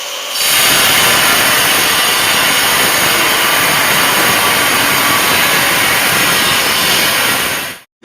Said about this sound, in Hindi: तार लगाने के बाद ग्राइंडर का काम कर देते हैं हम स्टार्ट